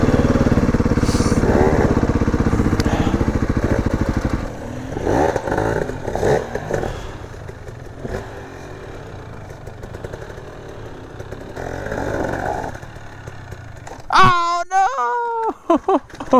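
Beta 480RR enduro motorcycle climbing a rocky mountain trail, its engine note rising and falling under frequent talk, ending in a sharp, loud rev sweep near the end.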